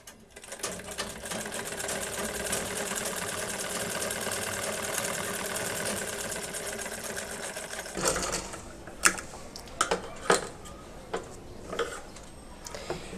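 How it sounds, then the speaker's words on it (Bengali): Sewing machine running in a long steady stitching burst while sewing the side of a salwar panel, then stopping into a few short clicks and handling knocks, close and fairly loud with no talk. "তো সাইড থেকে এভাবে করে সেলাই করব।"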